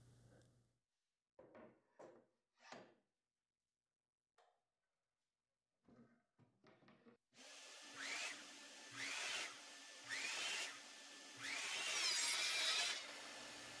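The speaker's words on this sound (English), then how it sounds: "so for the other two sides, I'll move to my miter saw." An articulating arm miter saw cuts a 16-inch canvas panel, with several quiet clicks and taps before the motor roars up and rises into a few loud bursts of cutting.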